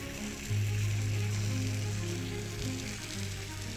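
Onions sizzling as they hit a pan of simmering ale sauce, a steady crackling fry with a low bubbling hum, fairly close and continuous with no talking.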